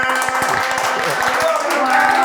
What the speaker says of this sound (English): Start clapping right now. Start clapping.